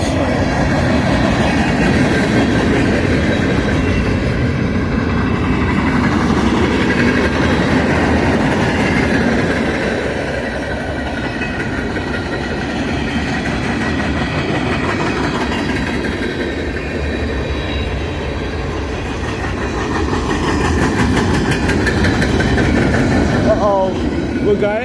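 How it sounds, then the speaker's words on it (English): A long Union Pacific freight train rolls past on rails in Steger, Illinois, its steady rumble and wheel clatter loud and continuous throughout, with a brief faint squeal of wheels near the end. "How long is this train?"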